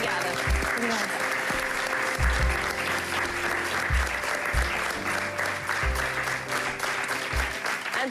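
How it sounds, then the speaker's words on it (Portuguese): An audience breaks into sustained applause for a woman at a festive gathering, dense clapping filling the whole stretch at a steady level, with a few scattered louder claps and a faint murmur of voices underneath. "um grande aplauso para a Sandra"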